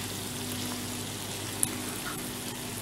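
Chopped vegetables, including spring onions and carrots, frying in a pan for chow mein, a soft, even sizzle that holds steady throughout, fairly quiet, with one small sharp tick partway through.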